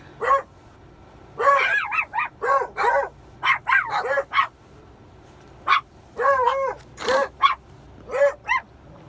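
A dog barks and yips repeatedly in short bursts during a scooter ride, close by and fairly loud, with brief pauses between volleys and no talking.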